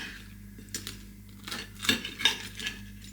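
Knife and fork slicing into air-fried frozen chicken steaks on a plate, a few quiet scrapes and small metallic clinks of cutlery, close and alone.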